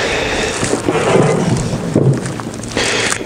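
Wind gusts outdoors beside a grill used for cold smoking cheese, producing loud, rumbling buffeting against the microphone with a few bursts of heavier gusts, close and continuous with no talk.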